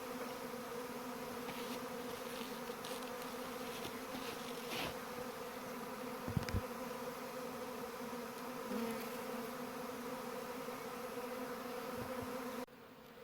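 Honeybees from a rehoused swarm hum around a new hive, a steady dense drone of many wings close by, with a few brief knocks and rustles and no talk.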